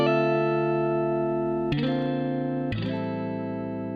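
A clean electric guitar rings out with sustained chords, struck again twice, each new strum cutting sharply into the fading notes.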